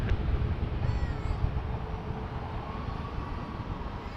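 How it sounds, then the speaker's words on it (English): An Air Canada Airbus A321-200 passes at Toronto Pearson Airport, heard as a faint, broad jet rumble that slowly swells and fades in the distance. "There goes the aircraft."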